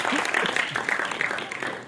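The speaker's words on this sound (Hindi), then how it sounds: "एक बार जोरदार तालियां।" Audience at a foundation day ceremony of an international Buddhist research institute in Lucknow claps in a brief, lively burst of applause that thins out after about two seconds, with a voice talking over it.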